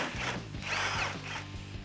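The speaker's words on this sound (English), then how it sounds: "grab our 10mm socket and remove the final bolt on the side of our headlight" A 10mm socket on a ratchet or driver turns out the side headlight bolt on a 2019-2020 RAM 1500, a short close mechanical whirring with clicking pulses, no talk.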